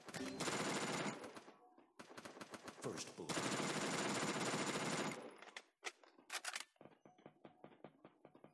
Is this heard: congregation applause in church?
no